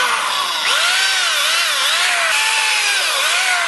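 Power drill boring pilot holes into wooden framing posts on a house build, a loud sustained whine that rises and dips in pitch as the bit bites, continuous throughout.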